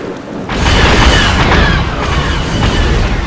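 A bombardment explosion in a Star Wars strategy game sets off a deep, sustained boom with a rolling, rumbling roar. It is loud and near and lasts for several seconds.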